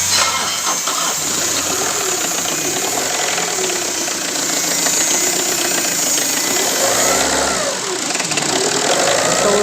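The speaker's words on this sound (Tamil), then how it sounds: "செல்ஃப் மட்டும் அடித்து பார்ப்போம். செல்ஃப் அடிப்போம்." A Tata Indigo car being cranked on its starter motor after a water pump and timing belt change: a loud, continuous, whirring mechanical churn held throughout, close by, with no voices.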